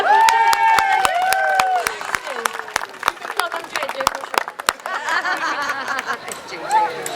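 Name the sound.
audience round of applause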